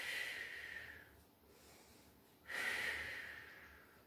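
Slow, deep breathing during a Pilates low plank, heard close up: a long hissing exhale, a quieter pause, then another strong breath, with no talking.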